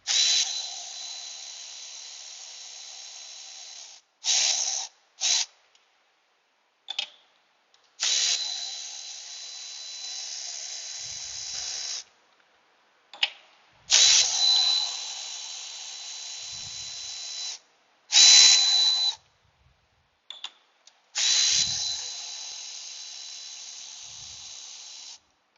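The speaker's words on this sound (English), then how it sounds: "So let's get our bolts out of the valve cover itself." A power tool spins out the valve cover bolts on a 2011 Kia Forte engine, giving a loud high-pitched whirring that runs in bursts of several seconds, separated by short silences and brief blips.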